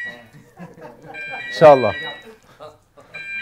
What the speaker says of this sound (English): I will dictate between the alarm sounds